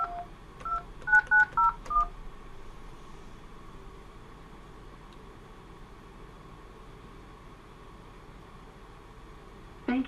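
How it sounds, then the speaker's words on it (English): Telephone keypad dialing of a lab extension on a home-lab SIP phone line: a quick run of about eight DTMF tones in the first two seconds, then a steady line hum and faint hiss, with another brief tone at the very end. "Please dial your lab extension after the tone."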